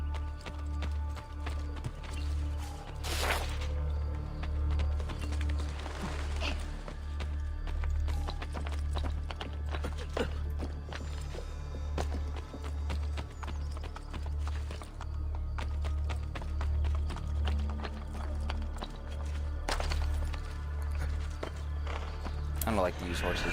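Hooves of a horse galloping in the Assassin's Creed Brotherhood video game, a steady rapid clip-clop rhythm running throughout under game music and ambience, with someone talking over it.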